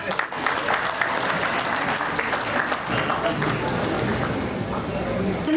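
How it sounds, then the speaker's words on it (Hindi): Loud, sustained clapping from an audience at a pharmacy conference as a guest is invited onstage, dense and steady with voices faintly mixed in. "राष्ट्र सर के लिए जोरदार तालियां।"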